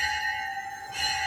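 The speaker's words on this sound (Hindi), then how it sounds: "आवाज सुनियो घंटी के" A temple bell rings steadily inside a Hindu shrine to the goddess Kashtaharni Bhavani in Banaras, a sustained metallic ringing with bright overtones, loud and close, swelling again near the end.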